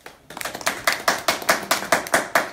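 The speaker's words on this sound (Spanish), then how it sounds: "Un aplauso." A small group claps in a brisk, uneven rhythm for a couple of seconds, fairly close.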